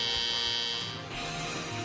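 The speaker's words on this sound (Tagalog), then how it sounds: "Sakaling lumagpas sa takdang oras ay otomatikong tutunog ang buzzer, hudyat na kailangan ng putulin ang pagsagot" An automatic time-limit buzzer sounds at a televised election debate forum, a loud continuous electronic drone that holds steady across the whole moment.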